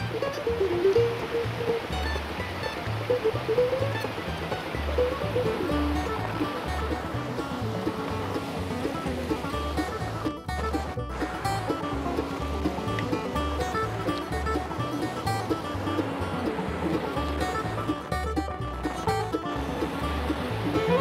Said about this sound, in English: Beautiful little cascades that feed this little creek that turns into Lost Creek Falls.